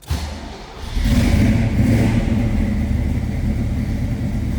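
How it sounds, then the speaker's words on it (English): A 1969 Chevrolet Camaro RS convertible with a 327 V8 built to 302 DZ specs revs up from idle, its deep rumble swelling after a moment and holding strong and steady close by, with no talking. "one of the best things about this car is the way it sounds"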